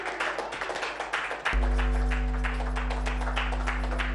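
Steady studio audience applause on a Turkish TV show, dense rhythmic clapping that continues as a low sustained musical drone begins under it partway through.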